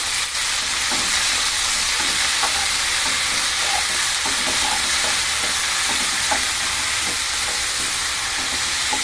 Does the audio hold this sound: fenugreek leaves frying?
yes